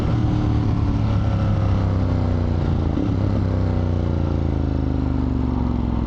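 Suzuki GSX-R motorcycle engine running after refueling, a loud steady close hum with a slight pitch change midway, no speech.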